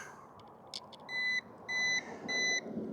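Electronic beeps sound in three steady, evenly spaced bursts over a low background hum, with a few short chirps before them.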